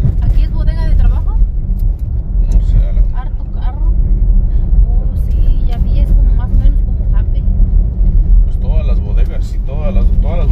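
Busy traffic of many cars outside a shop, a continuous low rumble of passing vehicles and engines under close conversation between people.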